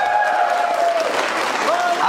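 Audience applauding a first-place winner at a contest, steady broad clapping over the full stretch with a voice speaking on top.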